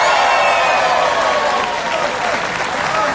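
A television studio audience at a comedy talk show claps loudly and continuously, with a mass of hands and faint crowd murmur, all close and steady before easing slightly toward the end.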